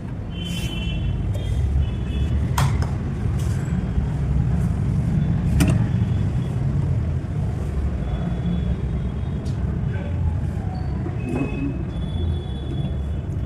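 Sewing machine stitching tucks in fabric, a steady continuous mechanical whir running throughout with faint ticks, no talking.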